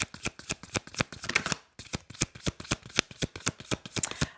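A deck of tarot cards is riffled and shuffled close up in quick, rhythmic bursts of crisp flutters, broken by a brief pause before the shuffling resumes.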